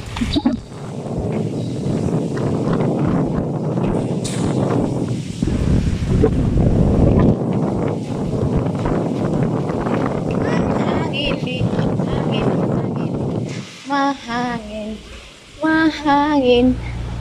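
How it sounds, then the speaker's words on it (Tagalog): Strong wind roars and buffets the microphone for most of the stretch, dropping away near the end as a person speaks nearby. "Mahangin sa labas."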